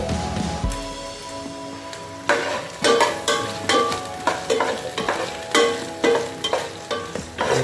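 Ingredients sautéing in a pan for paksiw na isdang lumahan, before the fish goes in: steady sizzling and frying with repeated scraping and stirring strokes of a utensil against the pan, close and fairly loud, no talking.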